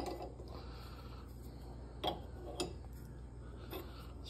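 Faint mechanical clicking of a wrench being turned during a repair, a few soft ratchet-like ticks spaced irregularly over a quiet background.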